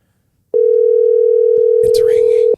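A Bluetooth telephone system plays a loud, steady dial tone that starts abruptly after a moment of silence and holds for about two seconds. A brief voice sounds over it near the end.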